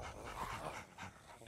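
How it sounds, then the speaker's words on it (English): Slimer, the little green ghost from Ghostbusters: The Video Game Remastered, panting hard in quick, breathy, doglike gasps, close and fairly quiet. "You've got the little monster breathing hard"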